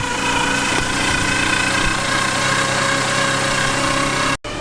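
A car engine idles steadily, a loud constant rumble with a droning hum, briefly cutting out near the end.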